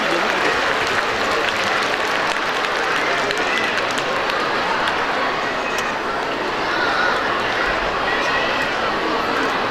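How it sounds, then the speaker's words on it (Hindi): Loud, continuous applause from a large crowd at a school's 25th anniversary silver jubilee convention in an Islamabad convention center, steady dense clapping throughout with cheering and chatter mixed in. "भरपूर तालियां।"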